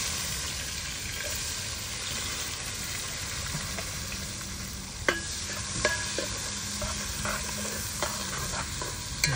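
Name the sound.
onions added and frying in beef curry pot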